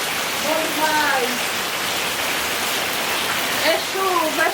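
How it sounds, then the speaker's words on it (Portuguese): Steady rain falls on a rural smallholding, a constant broadband hiss of drops on surfaces with birds chirping faintly in the background and no talk over it. "A chuva aqui na chácara."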